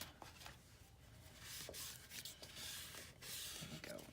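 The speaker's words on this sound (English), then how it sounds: "Give that a burnish." Paper edge being burnished flat while assembling a handmade botanic garden journal, a soft steady rubbing and sliding close by, in short repeated strokes with faint taps between.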